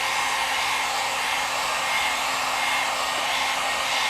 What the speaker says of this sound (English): we're going to heat it up here with a paint peeler or a heat gun